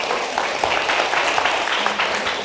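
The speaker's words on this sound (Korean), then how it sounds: "지금 박수 한번 치시죠" Audience applause at a training session for traditional market managers, a steady patter of many hands clapping at moderate distance, sustained evenly for a couple of seconds with no pauses.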